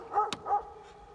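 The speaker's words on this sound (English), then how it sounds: "German Shepherd swimming out to me" A German Shepherd swimming out toward a fishing boat gives a short whining yip, then a second softer whimpering bark, close and brief.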